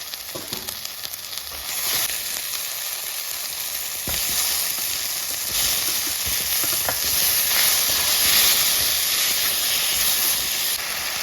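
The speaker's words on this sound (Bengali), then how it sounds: "এবার ভেজে রাখা আলুগুলো দিয়ে দিচ্ছি।" Previously fried potatoes hit a pan of hot, turmeric-seasoned oil for a village-style shol fish curry, raising a loud, steady sizzle and hiss with occasional stirring clinks, no voices.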